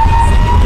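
An ambulance siren wails loud and steady, held in a traffic jam on a crowded road during a BJP Tiranga Yatra procession, its tone continuous through the short moment with traffic rumble beneath.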